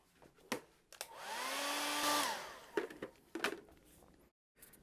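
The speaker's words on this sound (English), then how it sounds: "hit it with the dryer and it should be done" Hair dryer blowing over primer-coated EVA foam, a single whooshing burst of about a second that rises and cuts off, close by, framed by small handling clicks and taps.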